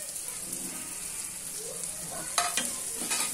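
Constant crackling sizzle of garlic and ginger frying in a pan, with a few sharp scraping stirs toward the end.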